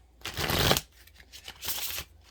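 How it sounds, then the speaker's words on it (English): Two close riffling bursts as a tarot deck is shuffled, the first longer and louder, the second following after a brief pause. "I am going to give the card deck a quick little shuffle"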